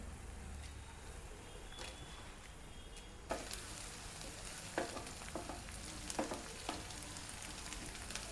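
Chopped onion with ground garlic-chili paste fries in a pan with a soft, even sizzle. Partway through, the hiss brightens and sharp scraping clicks of stirring cut in at irregular moments.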